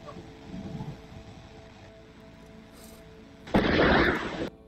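A single gunshot from what may be a .30-06 rifle or a muzzle loader, picked up on a security camera: one loud, broad blast that rings on for about a second over steady outdoor background hum.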